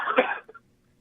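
A single short, loud cough from a man on a casual talk show, a harsh burst followed by a faint catch of breath, then quiet.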